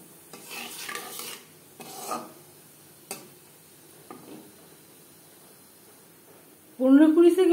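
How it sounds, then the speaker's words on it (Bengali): Whole cumin seeds hit hot refined oil and burst into a loud, close sizzle near the end. Before that come a few soft rustles and light taps while a person talks quietly. "3 চামচ রিফাইন্ড অয়েল গরম করে নিয়েছি। ফোড়নে দিয়ে দিলাম গোটা জিরে,"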